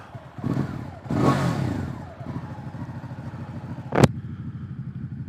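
Motorcycle riding on a road, with the engine running steadily under wind noise, a couple of louder surges early on and one sharp brief transient near the end.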